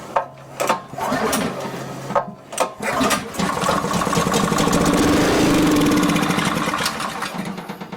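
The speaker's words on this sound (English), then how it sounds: "So we now have a running motor, kind of halfway running." A flooded gasoline pressure washer engine takes a few pull-start tugs and sputters, then catches and runs unevenly at half power, a steady buzzing drone that holds close and fairly loud.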